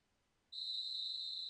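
A referee's whistle in an American football video game sounds once, a sharp, steady shrill tone that starts abruptly and holds loud and clear to the end, with no talk over it.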